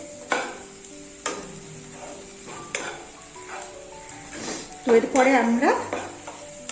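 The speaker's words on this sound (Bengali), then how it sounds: "বেশ সুন্দর ভালো করে ফ্রাই হয়েছে, রসুন টসুন দারুণ ফ্রাই হয়েছে।" Vegetables and garlic frying in a pan, with repeated scraping stirs and a steady sizzle; a voice speaks briefly early on, and a louder clatter of utensil against pan comes near the end.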